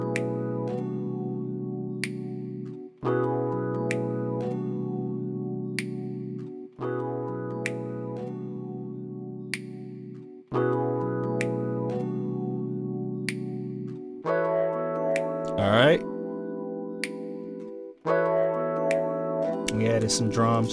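A keys sample instrument from the Kevin Keys VST plugin plays a looping demo of repeated chord phrases, close and steady, shifting to a different pattern partway through with brief sweeps and percussive clicks.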